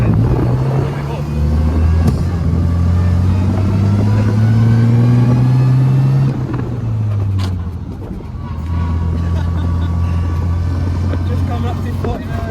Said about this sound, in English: We're going to give this old bus a wee bit of throttle and see how it goes.